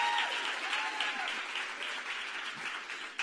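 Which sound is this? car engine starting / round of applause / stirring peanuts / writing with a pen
round of applause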